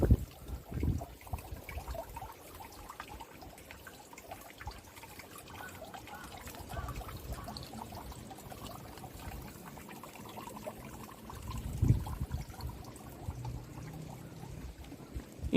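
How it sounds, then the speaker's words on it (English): Water trickles slowly and steadily at a temple, a low continuous liquid dribble with soft splashing throughout, quiet and with no voices. "With the slow trickle of water,"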